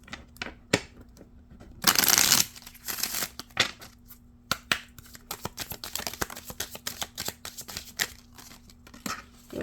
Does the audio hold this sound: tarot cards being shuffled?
yes